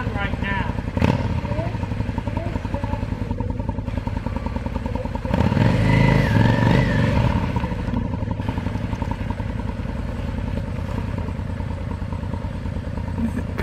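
A motorcycle engine runs steadily on a short ride around a dooryard, with a continuous low rumble, a brief surge in the middle and some clattering. Someone talks over it now and then.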